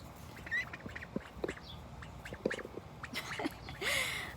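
Ducks quack near and far in a small rural patch of woodland with hatchlings around, scattered short calls and honks over an outdoor background hum.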